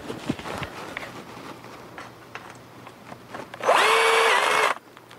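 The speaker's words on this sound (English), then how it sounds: "I'm putting my last screw in right here." A power drill drives a final screw into a purlin on a low-tunnel hoophouse, one loud steady whir of about a second that cuts off sharply, after quiet outdoor shuffling and light handling noises.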